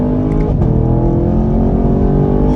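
A 2021 Chevrolet Camaro LT1 accelerates hard in second gear, its V8 roaring loud and steady throughout from inside the car.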